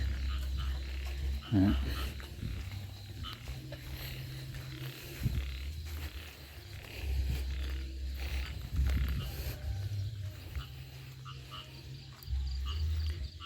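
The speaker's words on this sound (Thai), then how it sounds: "เสียงกบเสียงเขียดห้อง" Frogs croak in the countryside after rain, a dense chorus of low, repeated calls pulsing in overlapping bursts over a constant insect buzz, moderately near and steady throughout.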